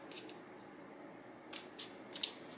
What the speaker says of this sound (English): I'm just using an old scissors to cut the ends off